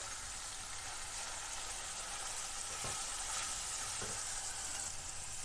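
Spice paste with salt and turmeric fries steadily in a pan for a Bengali katla fish kalia, giving a continuous close hiss with a couple of soft knocks.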